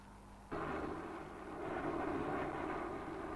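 A military transport aircraft's engines drone steadily from inside the cabin. The roar jumps in loudness early on and then holds a dense, even rumble with no talking.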